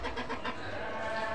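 A domestic chicken clucking outdoors near a house, a short burst of brief calls over background noise, fairly close, with no talk.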